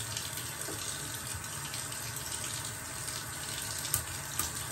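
Tap running into a sink to wet a shaving brush, a steady gentle splash of water at low volume with a couple of small knocks, no talking.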